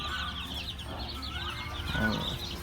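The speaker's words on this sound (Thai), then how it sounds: "ในนู่นนี่ก็จะมีพวกไก่ดำพวกอะไรพวกนี้" Black chickens cluck on a Thai farm in a busy, continuous stream of soft calls from several birds, with other farm noise faintly underneath.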